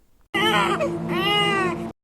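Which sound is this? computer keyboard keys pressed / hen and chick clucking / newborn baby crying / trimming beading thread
newborn baby crying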